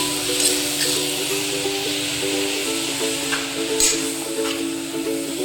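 Grated carrot for halwa is sautéed in a pressure cooker, producing a steady soft sizzle with gentle stirring scrapes throughout, with faint background noise beneath.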